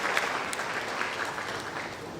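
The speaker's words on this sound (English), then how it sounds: "I'd like a very resounding hand of applause to all the participants" Applause from a school gathering, the crowd clapping for student participants after their science and engineering performances, a steady, moderately distant wash of hand claps that holds level throughout.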